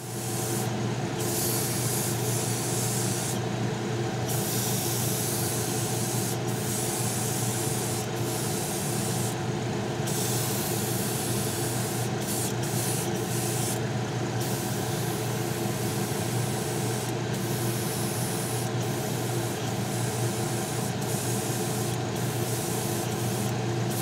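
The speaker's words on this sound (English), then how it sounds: "Put it in the airbrush, and then we'll spray the wing." An airbrush sprays green paint onto a scale model wing, a steady loud hiss running unbroken for the whole stretch, with brief drops in the highest hiss where the spray trigger eases.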